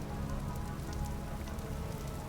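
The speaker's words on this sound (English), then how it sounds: "it's going to constantly be raining" Steady rain in the video game Vintage Story, a dense continuous patter of drops on surfaces, even and enveloping throughout.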